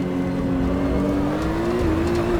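A BMW M2 CS race car engine in rFactor 2 drones at a steady, slightly rising pitch, loud and continuous throughout.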